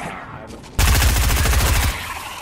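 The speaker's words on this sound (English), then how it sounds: "It's a suppressed assault rifle." Suppressed assault rifle firing in the video game Fortnite, a rapid burst of muffled shots in quick rhythmic succession, loud and close, ending abruptly.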